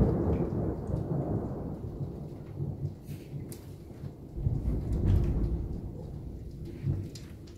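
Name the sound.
thunder during a snow storm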